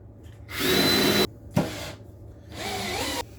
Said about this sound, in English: Let's do our countersinks.